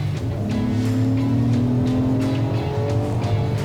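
2022 Acura MDX with a cold air intake accelerating from inside the cabin, a steady engine hum whose pitch climbs smoothly as the SUV gathers speed, with road noise underneath and no talking.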